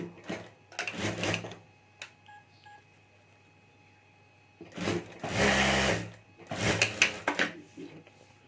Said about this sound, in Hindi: और अब यहाँ ऊपर हमें सिलाई कर देनी है, तो यहाँ ऊपर मैं सिलाई कर देता हूँ।